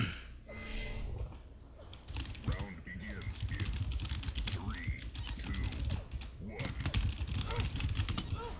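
Keys clack on a computer keyboard in quick irregular bursts during a Quake Live Clan Arena match, mixed with game noises and mechanical clicks, with a voice talking over parts of it.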